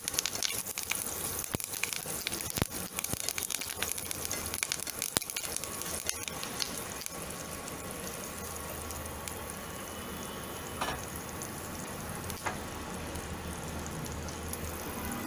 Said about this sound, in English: some green chilies, curry leaves, Going to saute it.